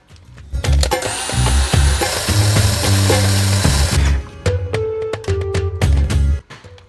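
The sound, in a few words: blending butter batter until smooth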